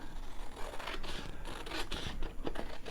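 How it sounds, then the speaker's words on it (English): Scissors cutting a piece of flower fabric for a collage, a run of close, rough crunching snips and scraping strokes, fairly steady with no talking. "let's just cut a piece here"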